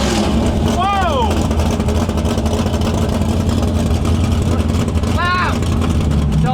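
A turbocharged LS-swapped Foxbody Mustang drives hard around a road course, its engine roaring steadily and continuously throughout. Two brief rising whistles, likely from the turbo, cut through the drone.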